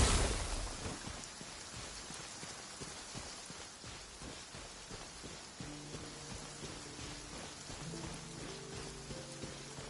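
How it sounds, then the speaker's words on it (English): Rain in Genshin Impact falls steadily as a dense, even hiss with pattering drops, a faint low rumble at first and a soft musical tone entering later. "It's raining?"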